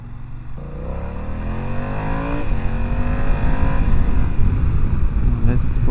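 Riding a BMW F900XR motorcycle, the engine note climbs under a rushing wind noise that grows steadily louder and fills the whole clip.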